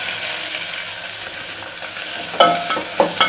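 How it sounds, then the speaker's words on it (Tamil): Small onions sautéing in oil with mustard seeds and curry leaves for Chettinad vengaya kosu sizzle steadily up close, with a few sharp scrapes and clacks of stirring near the end. "இதை நல்லா வதக்கி விட்டுக்குவோம்."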